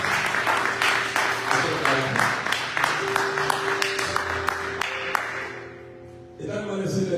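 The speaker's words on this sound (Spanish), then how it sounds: "un aplauso al Señor y un aplauso a las misiones" A church congregation applauds, many hands clapping in a brisk rhythmic burst that fades near the end, with voices rising faintly underneath.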